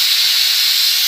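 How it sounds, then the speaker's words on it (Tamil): Steam hisses loudly and steadily from a pressure cooker's whistle while cooking vegetable rice, a constant high-pitched jet sound with no speech. "பாருங்கள் விசில் வரப்போது"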